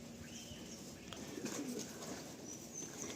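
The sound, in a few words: Kaldom pigeons cooing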